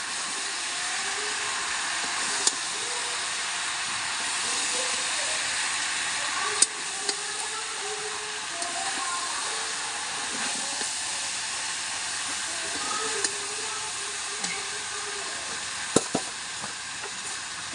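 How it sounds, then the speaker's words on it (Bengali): Spiced masala with chili powder sizzling steadily as it is sautéed in a pan, a continuous close hiss with a few faint clinks from stirring, no talk. "এবার ভালো করে কষে নেব।"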